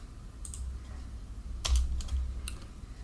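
Typing on a computer keyboard during a Palo Alto firewall IPsec VPN training session, a few quick scattered keystrokes and short clusters of taps, fairly close and alone over a faint low hum.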